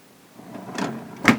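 A drawer in a Carnival Miracle cruise ship cabin slides and shuts, a short scraping rumble ending in a soft thud, close and alone.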